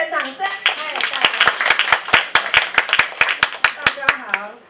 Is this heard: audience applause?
yes